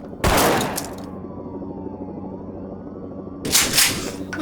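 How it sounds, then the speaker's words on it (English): Gunfire in the video game Zero Hour, set in a school shooting: two loud bursts of rapid shots, about a second each, separated by a quieter stretch of ringing room tone. "Fine, I'll start shooting anyway!"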